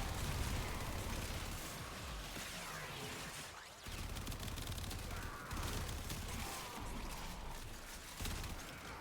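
Volleys of rifle fire from a Mosin Nagant in the game Warframe crackle and boom in dense overlapping bursts, loud and sustained with a brief pause midway, no talk over it.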